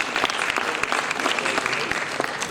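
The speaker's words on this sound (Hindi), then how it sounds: "एक बार तालियां बजाएं" Dense, steady audience applause fills a hall at a stage performance event, loud and continuous clapping throughout with no pauses.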